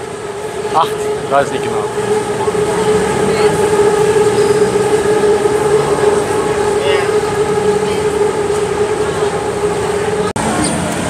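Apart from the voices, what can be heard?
BTS Skytrain running overhead in Bangkok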